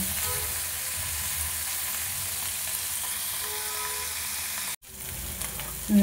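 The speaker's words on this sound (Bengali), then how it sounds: "পনিরগুলো দিয়ে দেবো। দিয়ে ভেজে নেব।" Paneer cubes frying in oil in a pan, a steady, even sizzling hiss heard close up, cut off by a brief silent gap before resuming, with a small clatter at the end.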